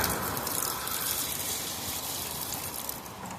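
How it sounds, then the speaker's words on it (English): A small amount of water is dumped out of a bucket outdoors, a close, loud gushing splash that runs continuously and tapers slightly toward the end, with no talk. "Dump that little bit of water out of there."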